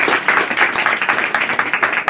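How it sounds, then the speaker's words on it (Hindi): A church congregation claps for a testimony at a Sunday worship meeting: a dense burst of many hands clapping together, loud and close, steady for about two seconds. "गवाही के लिए जोरदार तालियां"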